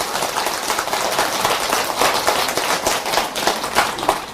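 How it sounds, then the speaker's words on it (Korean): An audience claps throughout, a dense steady patter of many hands at a Buddhist monk's lecture, fairly loud and close, with small swells and no voices over it. "이럴 때 박수 안 줍니까?"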